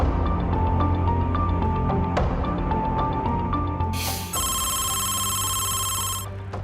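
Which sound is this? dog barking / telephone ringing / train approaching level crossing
telephone ringing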